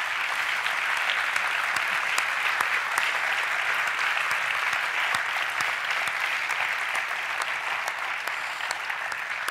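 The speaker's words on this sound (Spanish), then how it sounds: "nos sobra otro aplauso" An audience at a talk on drug rights claps in sustained, dense applause, loud and even throughout, with no voices rising above it.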